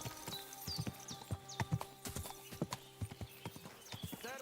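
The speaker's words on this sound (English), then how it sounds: "what a beautiful horse." Hooves clip-clop at a steady walking pace with distinct, close hits, a horse in a video game, with faint game ambience around them and no talking.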